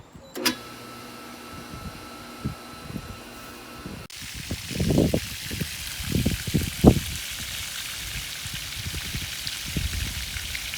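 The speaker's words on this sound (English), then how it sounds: "it's time to turn on the pump" An electric swimming pool pump runs at the start of the season, drawing dirty standing water off the top of the pool cover in a steady watery wash, with scattered splashy drips and gurgles after a brief mechanical start.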